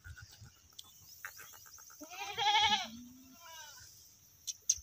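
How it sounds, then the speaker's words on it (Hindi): Goats bleat at a livestock sale. A long wavering bleat stands out clearly among softer background noise and a few brief knocks. "ये बकरी आ रही है 2 नंबर पे माशाल्लाह जी"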